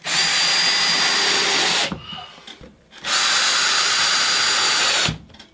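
Power drill driving screws into drywall, two loud sustained whirring runs each lasting about two seconds, separated by a short pause with faint handling noise.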